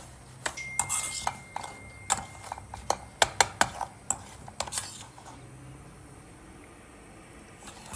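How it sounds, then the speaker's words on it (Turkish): Semolina scraped and stirred in a metal pan for halva, a run of sharp utensil clinks and knocks at an irregular rhythm that thins out into a soft, steady hiss. "irmik kokusunu verip rengini değiştirene kadar kavuracağım"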